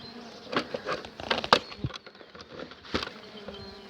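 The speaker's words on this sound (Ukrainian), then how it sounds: "бджоли більше летять повздовж" A dense, steady buzz of many honeybees flying close by, with occasional louder passes near the ear and no voices.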